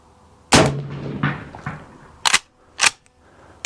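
Colt Lightning pump-action rifle firing 44-40 rounds outdoors: a loud close sharp report with a ringing tail, followed by two quick metallic clacks of the slide cycling.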